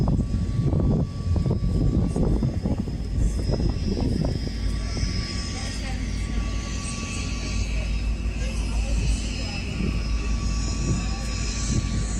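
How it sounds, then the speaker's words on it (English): A float plane's propeller engine drones steadily at a harbour waterfront, a continuous loud hum with engine rumble throughout, mixed with wind and ambient noise. "The float planes at Harbor Air"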